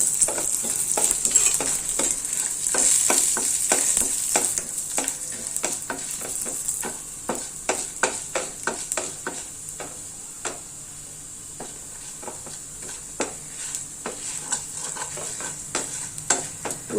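Urad dal, red chillies and asafoetida fry in a pan, a soft continuous sizzle punctuated by frequent sharp scraping ticks of a spoon stirring the mix, close by with no talk.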